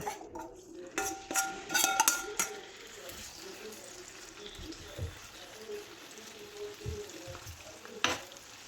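Marinated mussels sizzle in coconut oil on a tawa with a steady hiss, joined early by several sharp metallic clangs and scrapes of a utensil, then a lone knock near the end.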